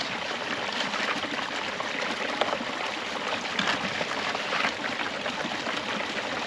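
Water rushes steadily through a Keene Mini Max sluice while gold prospecting, a constant nearby stream-like wash and trickle with slight surges and a faint click partway through, and no voices.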